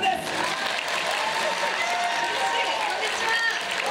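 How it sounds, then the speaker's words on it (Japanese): An audience on a Japanese TV show claps steadily and loudly as a guest enters, a dense, even wash of applause lasting the whole stretch. "みんなの拍手が小さいの"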